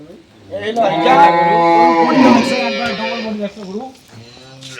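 Dairy cows mooing on a farm, one long loud harmonic low that fills most of the clip, followed by a shorter call, with people talking nearby.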